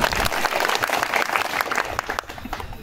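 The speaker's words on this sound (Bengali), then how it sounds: "একটা হাত তালি" Crowd applause at an open-air political rally in a village market, a strong burst of many hands clapping that gradually thins and fades out.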